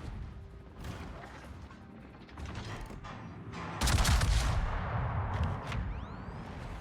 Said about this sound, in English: Someone got him with the cartoon explosion.